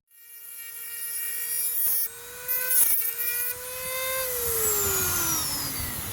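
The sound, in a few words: Dremel rotary tool running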